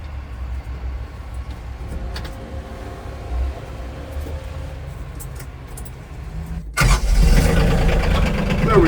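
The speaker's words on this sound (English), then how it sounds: "We'll start it up and just see if I can talk over it." A tractor engine starts and runs, heard from inside a Curtis Advantage cab: low idle rumble and a voice first, then an abrupt louder start that settles into a steady, close engine drone.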